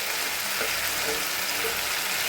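Soya chunks fry in a hot pan for chili soya, producing a constant dense hiss that stays at an even loudness throughout, with faint stirring underneath and no voices.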